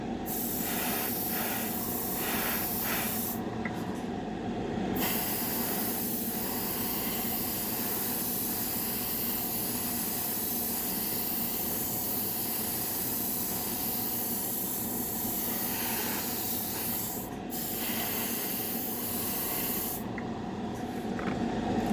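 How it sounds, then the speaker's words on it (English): An airbrush spraying paint on a 1932 Ford roadster, giving a steady, continuous close hiss that runs almost unbroken, with a couple of short pauses in the spray. "Get this airbrush figured out for 30 bucks, I think it was."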